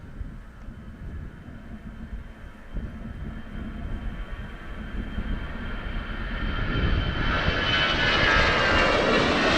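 An airliner departing Amsterdam Schiphol for Palma de Mallorca, its jet roar starting distant and swelling steadily louder toward the end.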